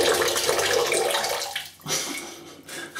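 A soaked shaving brush being squeezed by hand releases a loud, splashing gush of water for about a second and a half, then a short pause before a second gush.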